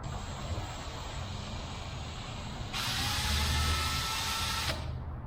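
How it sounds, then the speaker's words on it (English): A steady, hissing whir of a small drill boring through a wood aircraft windscreen area starts partway through, grinding loudly for a couple of seconds before cutting off abruptly. "So let's just drill through right there."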